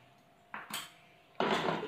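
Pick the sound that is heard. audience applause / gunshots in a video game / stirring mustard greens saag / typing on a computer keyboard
stirring mustard greens saag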